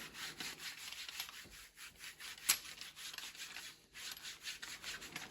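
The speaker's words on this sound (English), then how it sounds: "Scrub it with your hand." Hand scrubbing of a sprayed, dirty flat car surface gives a rhythmic back-and-forth rubbing, a steady series of close, soft scratchy strokes with one sharper click partway through.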